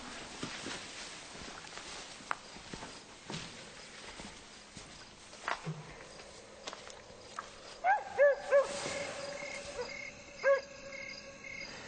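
A dog barks several times at mid distance in a horror film, sharp repeated yaps in the later half over a quiet night backdrop of insects and faint movement.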